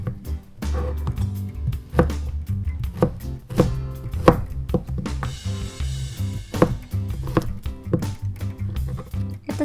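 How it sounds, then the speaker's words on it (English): Knife chopping zucchini into cubes on a cutting board, a steady run of sharp close thunks in an uneven quick rhythm with no talk. "So for the zucchinis, you also just cut them the same way. Just make it into 1-inch cubes"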